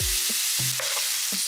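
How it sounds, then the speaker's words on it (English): Paneer cubes stir-fry in butter in a pan with a loud, continuous close sizzle, broken by a few quick stirring scrapes. "Stir fry the paneer for 2 to 3 minutes."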